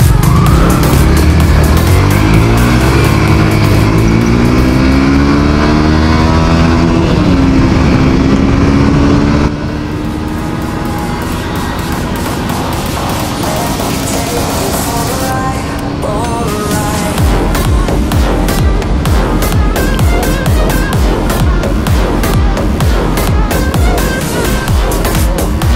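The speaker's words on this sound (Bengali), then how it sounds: "সুজুকি GSX আর FZ ভার্সনের রেস" A Suzuki GSX-R and a Yamaha FZ motorcycle race, engines roaring loudly and continuously with rising and falling revs and gear shifts, close and dominant throughout.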